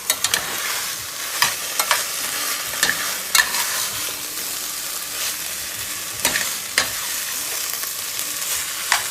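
Red coconut curry soup base with chicken being seared and stirred in a pot, a steady close sizzle punctuated by scattered sharp scrapes and knocks of a spoon against the pot.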